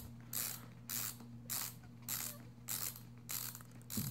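The ratchet strap on a K2 snowboard binding is cranked tight with a quick ratcheting rasp repeated about seven times in an even rhythm, quiet and close, without talk.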